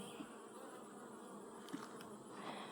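Honeybees buzzing at an open hive, a dense continuous drone of many insects close by, with a few brief louder passes near the listener.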